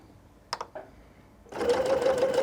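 Sewing machine stitching a back stitch on a drawstring backpack: a couple of short clicks, then a fast steady rattling run of stitches close up.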